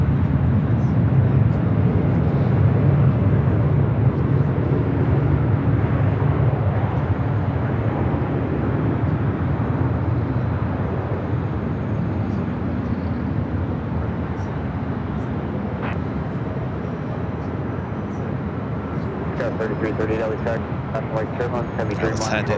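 A Boeing 747 jet lands at LAX, heard as a steady, broad engine roar that swells and fades slightly at the end. Faint voices talk underneath.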